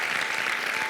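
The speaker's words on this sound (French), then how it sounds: "On applaudit d'abord pour les sapeurs du Congo" A stand-up comedy festival audience applauds the sapeurs of Congo with loud, dense, continuous clapping that fills the room from start to finish.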